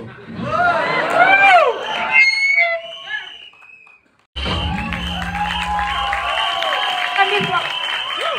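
A live audience breaks into loud applause and cheering with shouts, then after a brief drop a second burst of clapping and crowd noise continues steadily with voices mixed in.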